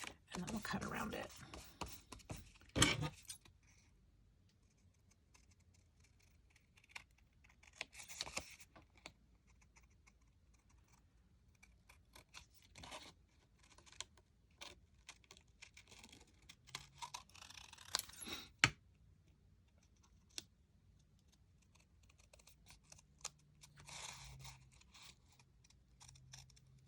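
Scissors cut around a paper tag in scattered short snips and rustles, with longer pauses between bursts and quiet handling noises. A person talks at times.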